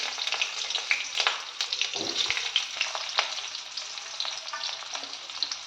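Chopped onion and nigella seeds frying in hot oil, a loud continuous sizzle with crackles and occasional stirring scrapes, heard close with no talking.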